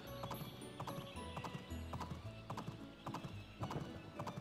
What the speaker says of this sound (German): Ah, da ist das Pferd. Kann ich damit reiten?